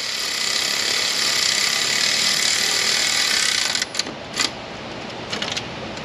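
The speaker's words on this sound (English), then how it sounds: "Now we're screwing the right hole." A power tool drives a bolt on a Ford 5.4 Triton engine: a loud, steady mechanical whir runs for nearly four seconds, then stops, followed by a few short clicks and rattles.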